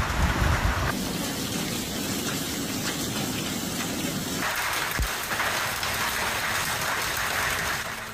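Heavy storm rain pours in a steady dense hiss over flooded streets, with a brief louder burst near the start and a low rumble underneath, no voices.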